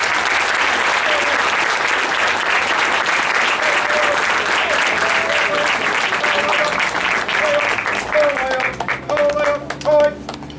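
Sustained, loud applause from a crowd honoring awardees at a U.S. Army cavalry troop graduation ceremony at Fort Benning, steady dense clapping that thins out near the end.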